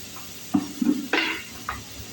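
Green chillies and small shallots being lightly sautéed in a pan for a sardine dish, with a soft sizzle and a few distinct scrapes and clinks of a spoon against the pan, heard close and without talk.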